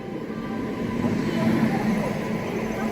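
A Secunderabad–Goa weekly train pulled by a WAP-7 electric locomotive, a continuous rolling rumble heard from inside the carriage, swelling slightly midway and staying steady throughout.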